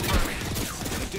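Smart bullet gunfire in the video game Apex Legends, a rapid burst of dense, rattling automatic shots filling the brief moment at moderate loudness.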